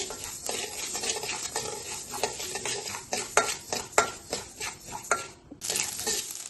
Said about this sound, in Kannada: ನೋಡಿ ಸಾಸಿವೆ ಎಷ್ಟು ಚಟಪಟ ಅಂತ ಅನ್ನಿಸ್ತವೆ